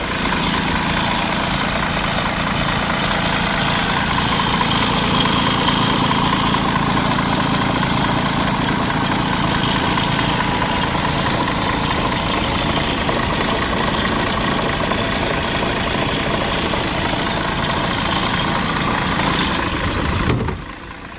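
Mercedes O530 city bus engine idling in a workshop, a steady continuous rumble with broad mechanical hum held evenly close to the microphone for about twenty seconds before cutting off.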